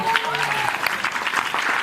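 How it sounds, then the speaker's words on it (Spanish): A church congregation claps together in a dense, steady burst of applause, with a voice faintly audible beneath the clapping. "Aplauda al Señor."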